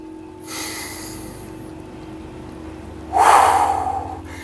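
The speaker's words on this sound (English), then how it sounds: "Take 1 or 2 deep breaths at your own pace." Two deep breaths at a relaxed pace during morning yoga, a long airy inhale near the start and a louder, rougher exhale later, close to the microphone with no talking.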